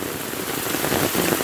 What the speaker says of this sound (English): I love the country rain, you know.